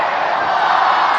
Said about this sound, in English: On 3, I need everyone here to yell, "Start the clock."